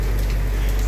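Steady rain pours down on a trike ride through cold weather on the road to Urubici, Santa Catarina, a dense, continuous hiss of water with a low rumble underneath and no voices.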